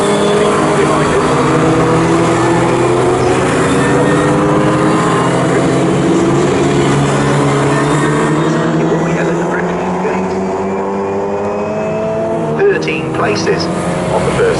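Classic K Series race cars roar around Snetterton circuit, with engines droning and shifting pitch as they pass and a commentator talking over the continuous loud motor noise.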